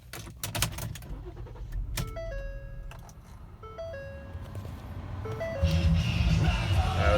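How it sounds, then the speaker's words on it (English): A 2013 Ford Edge SEL AWD starting up: dashboard chimes and tones ring out in stepped sequence, then the engine catches and settles into a steady idle for the last stretch. "Start it up here."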